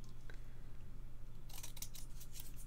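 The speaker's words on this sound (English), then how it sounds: "And now all I'm gonna do now is cut either side" Scissors snip through card stock for a handmade sketch card, several quick close crisp cuts in a short burst after a quiet stretch, no talking.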